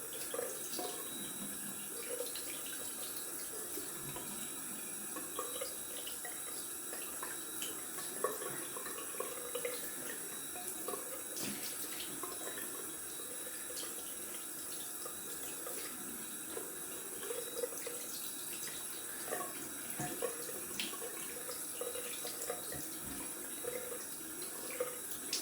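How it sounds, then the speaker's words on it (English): Cold tap water runs steadily into a sink for a face rinse after a wet shave, a continuous close splashing hiss with small irregular drips and splatters, no talking. "I'm gonna rinse off with some cold water."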